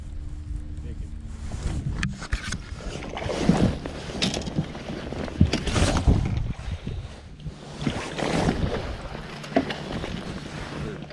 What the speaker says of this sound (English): there are boats running around everywhere